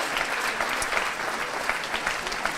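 Audience applauding at a regional science-communication contest award ceremony, a sustained crowd of clapping hands with occasional sharper individual claps standing out over the even, moderately loud wash.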